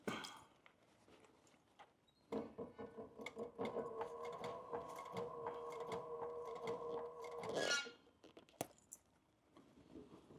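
A sewing machine stitches around a flip top shave kit, running in a steady mechanical whir for about five seconds before stopping, framed by quiet clicks and handling sounds.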